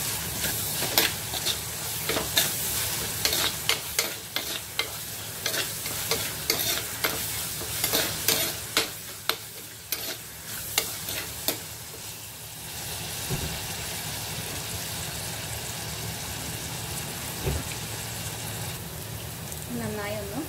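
Ingredients for a raw mango curry are sautéed in a pan, with a spoon clattering and scraping in quick repeated strokes over a continuous sizzle, then the frying carries on more evenly near the end, close by, with some talking.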